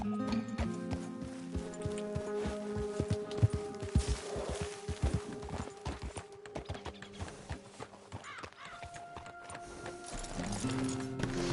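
Horse hooves clip-clopping in the video game Red Dead Redemption 2, a steady rhythmic trot of moderate loudness beneath game music and ambient sound.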